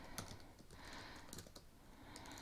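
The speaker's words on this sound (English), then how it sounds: "start typing any notes that you'd like." Typing on a computer keyboard, a quiet run of light, irregular key clicks in short bursts, close and faint, with no talk.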